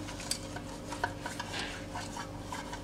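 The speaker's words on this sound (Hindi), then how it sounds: "मोल्ड में थोड़ा सा तेल डाल के हम मोल्ड को चारों ओर से ग्रीस करेंगे" Oil spread around the inside of a metal cake mold for a biscuit cake baked in a kadhai, giving soft close rubbing and scraping with a few light metallic taps, alone and without talk.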